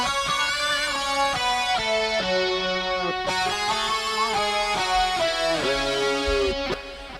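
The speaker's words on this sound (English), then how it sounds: "I've got a little Matrix 1000 by Oberheim doing a lead that's doubling that" An Oberheim Matrix 1000 synthesizer plays a sustained lead line doubling a guitar in a dense full-band mix, the two sitting together loud and steady throughout with no voices.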